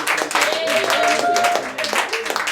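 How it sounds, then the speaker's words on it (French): A congregation at a Pentecost church service claps and cheers loudly in a steady, continuous burst while voices ring out over the applause. "Acclame très fort"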